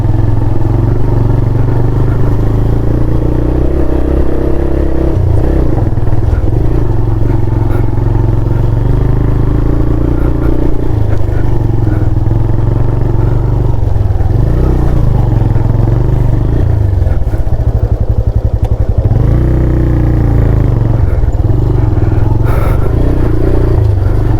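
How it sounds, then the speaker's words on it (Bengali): A 125cc TVS motorcycle straining uphill on a rough, rocky mountain road, its engine loud and close throughout, revving and labouring with clattering and scraping over stones. "পাওয়ার মোডেও বাইক উঠছে না"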